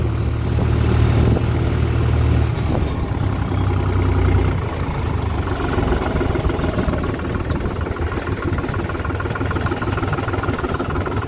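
A New Holland T480 tractor of 48 horsepower runs at full throttle while climbing a steep slope. Its steady, loud, low engine drone continues throughout with no talk, easing slightly partway through.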